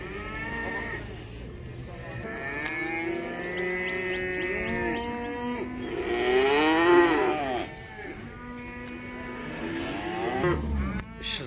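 Cows at a cattle market in Taraz moo repeatedly in long, overlapping calls, some close and loud, others farther off, with a steady crowd murmur underneath.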